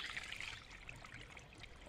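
Cold water flowing from a pipe in a forest, a steady close trickling and splashing stream that runs without a break for the whole stretch.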